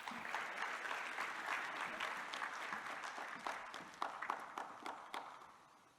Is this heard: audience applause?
yes